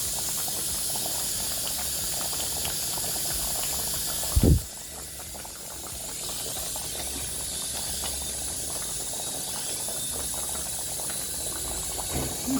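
A pot of matoke boils steadily nearby with a continuous hissing, bubbling steam sound and one brief low thump partway through.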